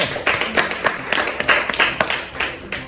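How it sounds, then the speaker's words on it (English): A sixth-grade classroom gives a round of applause after a student's hair-straightening demonstration, with steady mid-distance clapping from many hands throughout and no talk. "why don't we give Aubrey a round of applause?"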